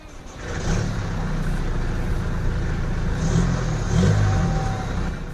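A 2013 Mercedes-Benz CLA220 CDI with a 2.1-litre four-cylinder turbocharged diesel engine, heard starting and pulling away: a low, steady diesel drone that swells as it revs and accelerates, close and continuous with no talking.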